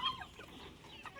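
Chickens cluck faintly around a home yard in a brief, quiet burst with a low background murmur.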